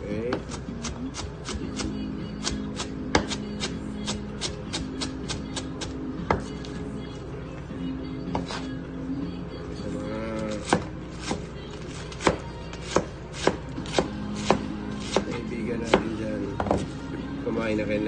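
Knife slicing fresh vegetables on a cutting board, with a steady run of sharp, close chopping taps that come in quick bursts and pauses under a speaking voice.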